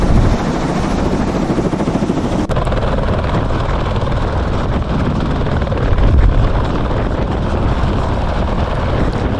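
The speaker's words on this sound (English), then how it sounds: "So a lot of wash when the helicopter takes off, so make sure you hold on to everything." A helicopter lifts off close by in New Zealand's Kaimanawa ranges, its loud, continuous rotor roar mixed with heavy wind buffeting from the downwash.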